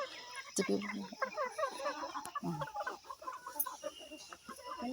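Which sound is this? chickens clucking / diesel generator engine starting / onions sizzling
chickens clucking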